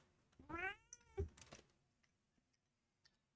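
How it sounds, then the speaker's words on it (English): A cat meows close by, a drawn-out rising and falling call followed by a shorter second cry, then a few faint ticks in an otherwise quiet room. "Oh, I've got a cat coming at me."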